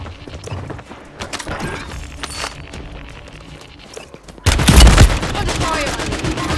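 Dense video game gunfire crackles in rapid bursts through a war scene, jumping sharply louder partway through as close shots and a heavy blast erupt over the ongoing combat noise.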